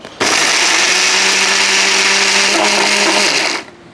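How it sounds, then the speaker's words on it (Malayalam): A mixer grinder blends Kerala-style chammanthi ingredients in a jar, letting out a loud steady whirring buzz that starts abruptly, holds for about three seconds and cuts off, with no talk. "ഇനി ഇത് അതേ രീതിയിൽ ഒന്ന് അരച്ചെടുക്കാം"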